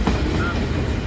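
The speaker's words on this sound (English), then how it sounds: "Union Pacific Ace, alright. And yep, this train is 137." Union Pacific freight train rolling past at the Galt Subdivision in London, Ontario, a loud continuous rumble of wheels and cars, close and steady throughout.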